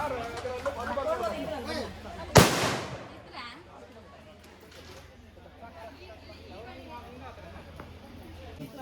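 A firecracker bursts once with a sharp loud crack at a wedding reception to welcome arriving guests, amid ongoing chatter and voices that continue after the bang fades.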